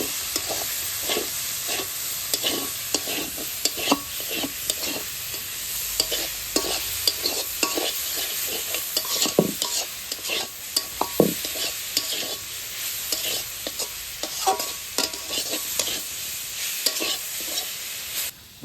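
Fish frying in oil in a village kitchen, a steady bright sizzle with repeated clinks and scrapes of a utensil stirring the pan, close and fairly loud, no voices.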